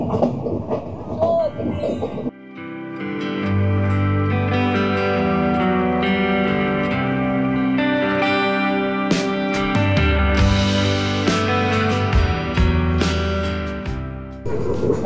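Kapotaksha Express passenger train running on rails between Rajshahi and Khulna in Bangladesh, heard from on board as a loud, steady rumble that starts after a brief quieter moment and continues throughout.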